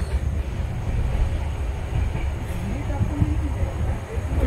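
Steady low rumble of a moving passenger train on the Pune to Chandrapur route, heard from inside a carriage, continuous and fairly loud with faint voices mixed in.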